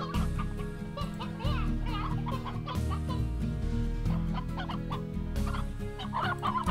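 Hens in the video game Slime Rancher cluck repeatedly in quick, overlapping bursts over a steady bed of game music.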